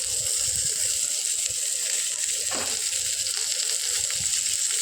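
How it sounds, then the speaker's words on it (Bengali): Chopped onions frying in oil with panch phoron in a pan previously used for frying prawns, giving a steady, close sizzle with no talk. "দিয়ে এবার দেখো ওর মধ্যে পেঁয়াজ কুচিগুলো দিয়ে দিলাম।"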